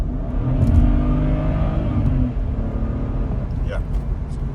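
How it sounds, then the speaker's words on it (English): A BMW N54/N55 engine runs smoothly at a steady idle with a low rumble, with a brief swell early on; a voice talks over the engine. "car runs way smoother than before"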